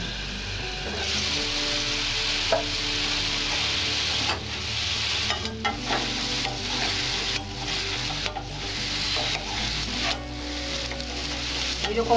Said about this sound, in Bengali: আমি আলুটা লাল লাল করে ভেজে নিয়েছি